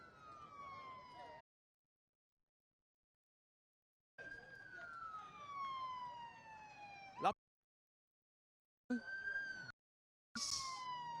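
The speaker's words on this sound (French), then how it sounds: "C'est l'ambulance, c'est pas la police, c'est l'ambulance." An ambulance siren wails with slowly falling tones in bursts separated by silent gaps, with a sharp click partway through, during a street demonstration at Gbessia roundabout.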